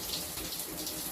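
Lukewarm tap water runs in a steady, fairly quiet stream into a sink while an empty body wash bottle is rinsed under it, with no talking.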